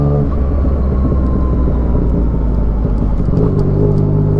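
A Yamaha MT-09 motorcycle accelerates hard with a loud, steady engine roar and rising rev tone, close up, with no voices over it.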